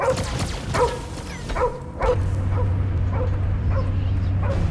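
Dog in the video game Marvel's Guardians of the Galaxy gives a run of sharp yips and barks, about eight quick close calls, over a low steady game hum.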